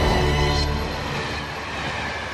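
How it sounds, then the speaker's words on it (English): A high-speed train runs along the tracks close by, a loud steady roar of wheels and rushing air with a dense rumble that fades slightly as it passes. "This is one of the most impressive trains in Europe."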